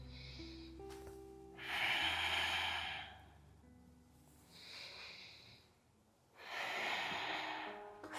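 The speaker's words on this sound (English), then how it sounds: "Breathe in and exhale." Deep breathing during an exercise routine, two long audible breath cycles with airy inhales and slow hissing exhales, close and fairly loud, with no talk.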